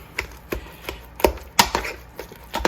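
A spoon knocks and scrapes against a bowl while sour cream is stirred into a mixture, giving a series of sharp, close taps at an uneven rhythm with no talking.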